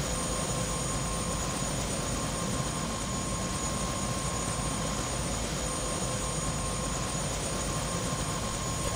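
In the video game Prey, a helicopter hovers and flies with a steady, loud rotor and engine roar that holds constant throughout, with no voices over it.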